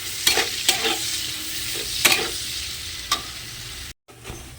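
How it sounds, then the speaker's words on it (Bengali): Chopped onions, three medium ones, fry in oil for a chicken dish and get stirred, with a steady close sizzle broken by several sharp spatula scrapes and clicks and one short dropout near the end. "এইবারে পেঁয়াজটা আমি একটু লাল করে ভেজে নেব"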